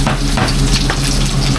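Garlic and onion sauté in hot oil in a loud, close, continuous sizzle with bursts of spattering and no talk.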